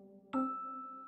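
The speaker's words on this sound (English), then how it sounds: "Pull the bell." A pull bell at a door rings once, struck sharply and left sounding in a bright, sustained tone that fades slowly over about a second. A steady low hum sits underneath.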